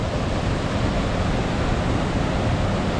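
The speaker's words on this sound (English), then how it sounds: "biggest waterfalls in Indiana." A waterfall in Indiana rushes as a dense, steady roar, loud and unbroken throughout with no voices.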